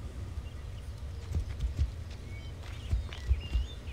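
Horse hooves clip-clop in Assassin's Creed Odyssey, a steady walking rhythm of clear, close hoof strikes on hard ground, with a few louder accented steps and no talking.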